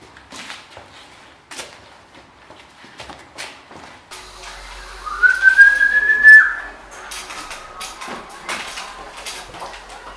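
A single rising then sustained whistle, clear and close, preceded by scattered clicks and shuffling footsteps in a quiet room.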